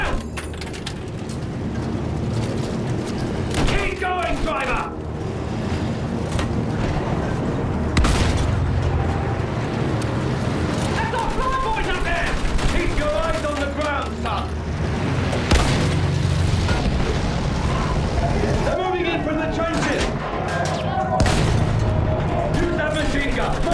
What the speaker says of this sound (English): Use the MG! Sweep the ground!